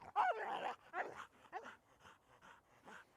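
A reactive dog lets out a burst of sharp, close barks, then trails into a series of shorter whimpering yips that grow fainter, heard on their own without talk.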